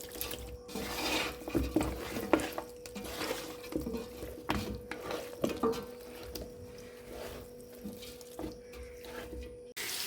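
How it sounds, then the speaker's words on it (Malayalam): Sliced onions frying for a chicken dum biryani, giving a continuous crackling, rasping sizzle with scattered scraping clicks from a utensil, steady and fairly close, no talk. "കുറച്ച് സവാള ഫ്രൈ ആക്കി എടുക്കുക"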